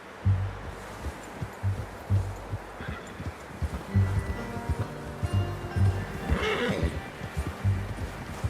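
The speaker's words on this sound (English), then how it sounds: "Get a hold of that horse, Arthur." A horse in the Red Dead Redemption 2 video game gives a loud, shrill whinny over a run of soft hoof clops and shuffling movement, with no talking.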